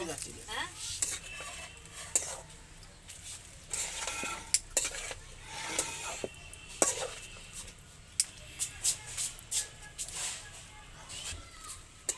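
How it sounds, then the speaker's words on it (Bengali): A spoon stirs spices through a veg momo filling in a pan, close up, with repeated clinks and scrapes against the metal over a soft sizzle. "মশলাগুলো দেওয়া হয়ে গেছে, একটু নাড়াচাড়া করে নেব"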